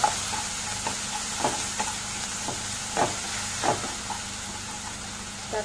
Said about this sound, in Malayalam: ഇപ്പൊ ഉള്ളി വഴണ്ട് വന്നിട്ടുണ്ട്, ഇതിനകത്തേക്ക് ഞാൻ തക്കാളി ആഡ് ചെയ്യുകയാണ്.